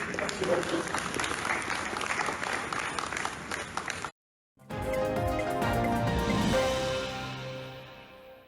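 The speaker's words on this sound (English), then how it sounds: "I want to have a round of applause for you." A studio audience at a news program breaks into a loud round of applause that runs steadily, cuts out briefly, then resumes with dense clapping and fades toward the end.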